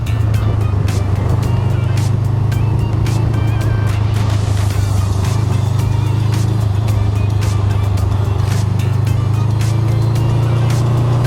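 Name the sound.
Honda Rebel 500 motorcycle riding around a traffic circle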